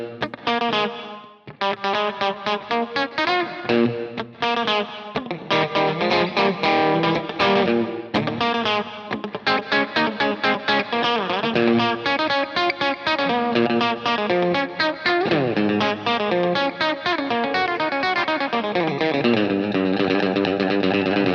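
A 1980s Yamaha multi-effects processor colours a steady run of melodic synth or keyboard notes with reverb, delay and chorus-like shimmer, playing continuously and fairly loud for about twenty seconds with no talking.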